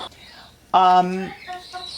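Black Ayam Cemani chickens clucking close by, one loud drawn-out cluck in the middle followed by a couple of shorter softer clucks, with quiet farmyard background.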